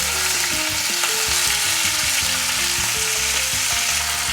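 Choy sum frying in hot oil in a pan, giving a loud, dense, continuous sizzle with crackle, while background music plays underneath.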